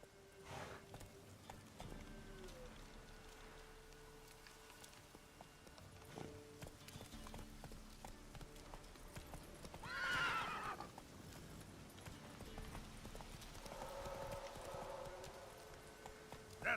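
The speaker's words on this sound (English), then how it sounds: "Whoa there, Roach." A horse trots through the Witcher 3 video game world, hooves clip-clopping steadily in the background with a loud neigh midway and another whinny later, amid quiet game ambience.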